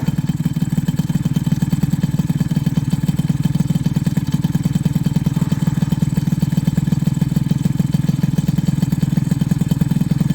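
A cold moped engine with an unadjusted idle chugs close up in a fast, steady, slightly uneven putter that carries on without a break and without talking.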